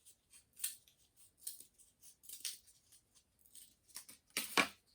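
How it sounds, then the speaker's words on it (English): Scissors cut a circle out of cardboard, a series of short quiet snips and crunches in irregular rhythm, close by, ending with one louder cut. "one thing you could do is use cardboard, and you can cut a circle"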